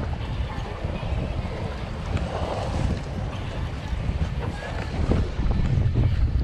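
A strong south wind blows across the open sea on a fishing boat out for deep-sea slow-pitch jigging, loud continuous buffeting and rumble against the microphone with sloshing water beneath.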